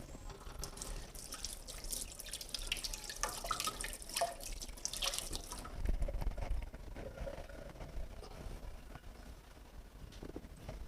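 A spoon is rinsed under a running kitchen tap while preparing a salad dressing: steady water flow with dripping and light clinks, continuous at moderate level throughout.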